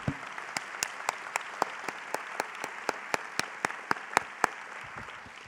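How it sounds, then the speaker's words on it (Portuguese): Church congregation applauding during a Portuguese-language sermon, with sharp rhythmic claps standing out over a steady wash of clapping, close and moderately loud throughout. "Você pode aplaudir a palavra de Deus?"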